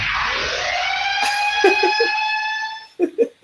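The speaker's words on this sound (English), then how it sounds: "And I also made this siren." A synthesized siren sweeps through a long, bright, wavering electronic tone that rises and fades, then a few short harsh bursts follow near the end.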